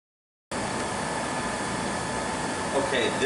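A turbomolecular pump at full rotation speed pumps down the tube of an Oxford 700 Cryostream, giving a steady, loud, even hiss and whir that starts abruptly and holds constant throughout.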